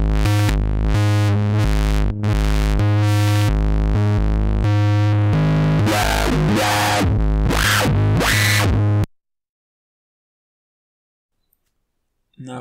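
A Serum synth lead recreating a song plays a loud, buzzy repeating riff with the filter resonance turned off, pulsing steadily for several seconds before stopping abruptly into silence.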